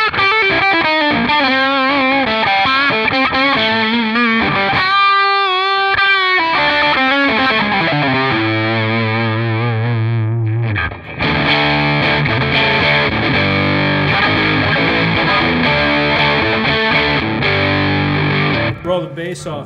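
A Reverend Bolt-On Jetstream 390 electric guitar with reverse-wound pickups plays loud chords and riffs through heavy distortion. Ringing sustained notes shift into chugging palm-muted passages, with one brief pause near the middle.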